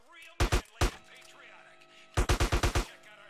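Gunfire in GTA San Andreas: an early pair of sharp shots, a lone shot, then after a pause a rapid burst of six close, loud shots over quiet game ambience.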